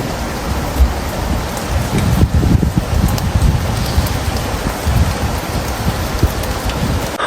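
Heavy rain pours steadily and loudly, drops pattering on surfaces nearby with a low rumbling undertone throughout.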